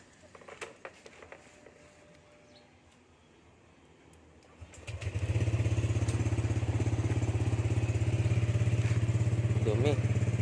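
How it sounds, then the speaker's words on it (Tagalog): A motorcycle engine starts after a few quiet seconds of faint outdoor sounds and scattered bird calls, then runs loud and close with a steady, rumbling idle through to the end. "Ito yung motor ko."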